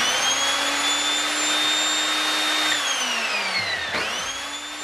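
An Evolution Rage 5 S table saw running freely with no workpiece, a loud steady motor whine that holds, then spins down in falling pitch before briefly revving up again.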